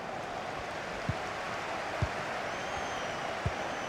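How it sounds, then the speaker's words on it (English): Steady crowd noise fills a football stadium during a Champions League match, Shakhtar Donetsk against Manchester City, a broad continuous wash of applause and murmur at moderate level with a few faint knocks. "Please give a round of applause for Alan"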